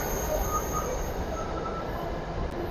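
Mumbai Metro Line 2B train running between stations toward Devnar, a steady interior rumble of wheels on rail with faint squeal, continuous and fairly loud throughout.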